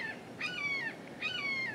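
Two caws from a crow ring out one after the other, moderately distant, over a quiet outdoor background while people test a window-mounted wireless power panel.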